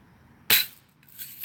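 A grandson's BB rifle fires once at a target, giving one sharp, close snap that fades quickly into quiet.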